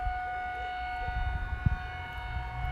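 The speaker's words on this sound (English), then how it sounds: "they're basically testing the sirens here" Civil defense sirens tested in Wieluń, Poland wail with a steady sustained tone from a distance, while low rumbling noise and scattered knocks sit beneath it.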